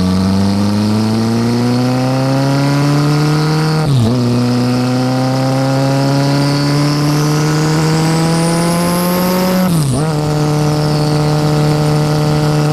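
Kawasaki GPZ Turbo motorcycle with a turbocharged inline-four revving loud and close, its pitch climbing steadily in two long pulls, each cut by a sharp drop as the throttle snaps shut, with a rising turbo whine on top.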